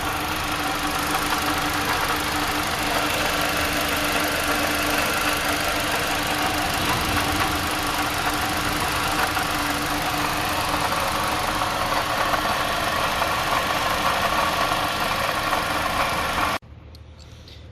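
A running 2015–2017 Toyota Corolla engine with a failing, noisy water pump, heard close up as a steady mechanical whir and knocking rattle that continues unbroken before cutting off near the end, with no voices.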